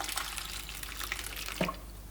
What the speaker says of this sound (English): boil your kettle and add some boiling hot water to your pasta